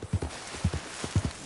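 Horse hooves clip-clop in Red Dead Redemption 2, a near, steady walking rhythm of paired soft thuds under faint game ambience.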